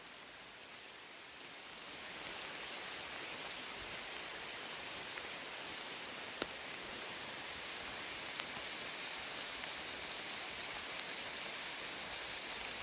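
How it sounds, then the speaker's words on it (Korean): Steady, dense hiss of a heavy rain shower pouring down continuously on a mountain hike, with a couple of sharp faint clicks; no voices. "다음 빗소리 한번 들어보시죠"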